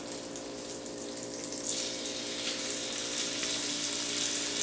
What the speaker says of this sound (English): cut that piece of bacon right there, and put him in the pan.